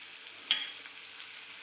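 Green chillies sizzle steadily in a pan as crushed peanuts go in, a brief clatter near the middle, then an even frying hiss continues alone.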